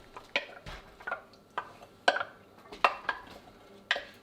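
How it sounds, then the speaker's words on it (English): A spoon scrapes and clinks inside a pot as reserved broccoli cheddar soup is stirred into a thick gravy. About eight irregular, close utensil knocks sound over a quiet kitchen background, with no talking. "we're gonna stir in that leftover reserved soup"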